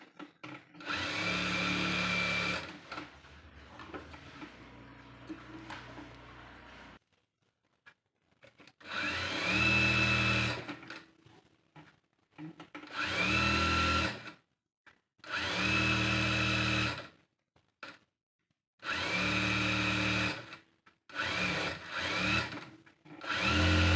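A sewing machine stitches a blouse in several short bursts of steady whirring, separated by brief pauses, loud and close with no talk.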